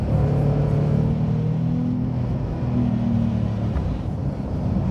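Steady, loud engine drone from a Porsche 911 Sport Classic on the move, a continuous low rumble with a sustained tone that dips slightly and rises again, heard from inside the car with no voices.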